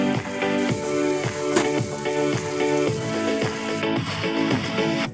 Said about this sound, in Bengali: এবার উল্টে পাল্টে একটু হাই ফ্লেমে নাড়াচাড়া করে নিচ্ছি